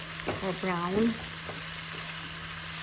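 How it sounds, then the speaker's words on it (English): Asparagus for a lemon risotto sizzles in a pan, a soft steady frying hiss running under a brief spoken remark. "So I'm going to let it sizzle for about 2 to 3 minutes."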